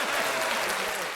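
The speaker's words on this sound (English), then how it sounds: "We need like another hand clap." A burst of hand clapping plays as a sound effect, dense and crowd-like, lasting about a second.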